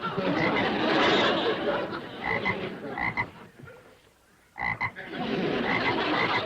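A voice imitates a frog's croaking for a cartoon man turned into a frog: loud, rough, close croaks come in bursts, with a short pause before the croaking resumes.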